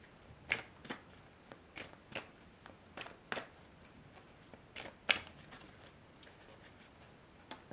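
Tarot cards being shuffled and cut by hand, a series of soft, quiet, irregular riffles and snaps spaced over several seconds with a faint background.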